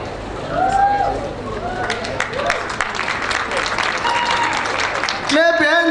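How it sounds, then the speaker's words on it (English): Audience clapping at a World AIDS Day launch event, steady mid-level applause running under intermittent voices, with speech returning near the end. "Clap hands for UN"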